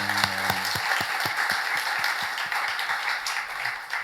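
A church congregation applauds at a year-end worship service, with dense steady clapping from a crowd that continues throughout, while a few sharper claps stand out at the start.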